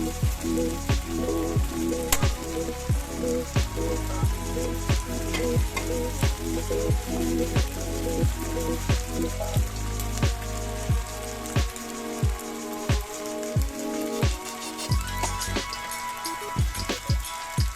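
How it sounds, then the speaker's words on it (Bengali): Garlic and ginger stirred and fried in oil for a pomfret fish dopiaza, with a steady close sizzle under regular scraping spatula strokes roughly twice a second that speed into quicker, sharper scrapes near the end. "রসুন এবং আদার এক্সট্রা গন্ধ দূর করার জন্য আমি তেলের সাথে খুব ভালোভাবে নাড়াচাড়া করে মিশিয়ে নিচ্ছি।"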